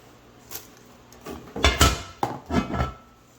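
A cast iron Dutch oven lid and pot being handled during bread making, a handful of close, heavy metallic clanks and knocks, with two louder thuds in the middle, over quiet kitchen room tone without talk.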